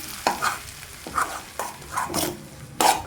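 Goat brain frying with salt, mutton masala and chilli powder, stirred in a pan in about six distinct scraping strokes over a low sizzle, close and rhythmic with no voices.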